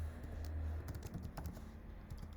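Computer keyboard typing while writing Node.js code, a steady stream of quiet, close key clicks and taps over a low background hum, with no talking.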